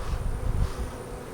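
Honey bees buzz around swarm cells in a tightly packed hive, a dense low drone that swells and fades across the short stretch, close and fairly loud with no voices.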